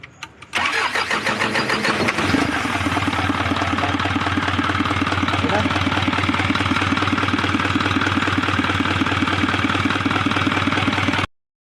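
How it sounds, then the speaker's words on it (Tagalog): An Isuzu Elf truck's 4HL1 diesel engine cranks briefly and catches, then settles into a loud, steady idle with a rhythmic diesel clatter after repair work for low power and water mixing with oil in the radiator. "Start na talaga yung makina dyan. So parang okay na."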